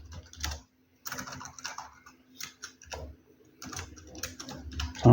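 Typing on a computer keyboard while setting up a Gmail email signature, with close, uneven bursts of rapid key clicks broken by short pauses and no talk.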